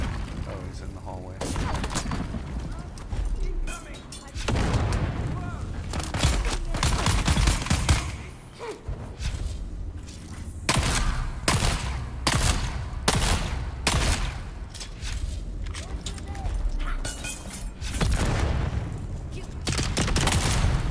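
Gunfire in the multiplayer video game Dune Awakening: repeated bursts of shots and rapid automatic fire through the scene, with loud cracks at intervals and players talking over the action.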